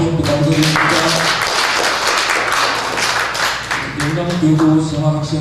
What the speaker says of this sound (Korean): 큰 은혜 받으시라고 박수 한번 부탁드립니다.